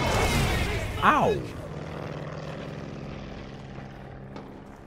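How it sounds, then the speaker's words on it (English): A propeller warplane roars low overhead in the Call of Duty Vanguard campaign, a loud droning sweep with a sharp pitch bend as it passes, then a steady engine rumble fading behind, with a voice heard near the start. "The plane got me this time."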